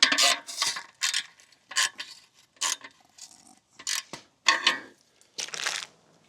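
Wrench or ratchet snugging bolts on an aluminum fence post cap, a run of short, close mechanical clicking and rasping bursts separated by brief pauses, with no talk.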